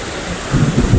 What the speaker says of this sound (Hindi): तो पानी की आवाज़ से और खड़खड़ाहट से आप देख सकते हैं कितना स्पीड का पानी है।